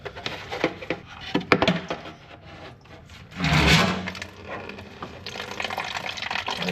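Water drains from a cracked transmission on an old abandoned machine into a can, first as scattered drips and knocks, then a short, louder gush of pouring liquid, then a steady trickle.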